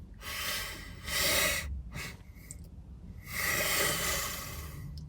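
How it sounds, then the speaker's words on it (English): Breathing in staged bursts: a strong rush of breath, a short pause, a second rush, then a shorter one, and a final long, forceful inhale. It is loud and close, with no talking. "What I did there is I took 3 stages of deep inhales"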